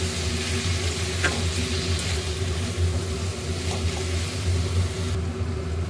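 Turmeric, chili, coriander and cumin powders with salt fry in hot oil for a Bihari-style egg curry. A steady, close sizzle continues throughout, with a low hum beneath and a couple of faint clinks.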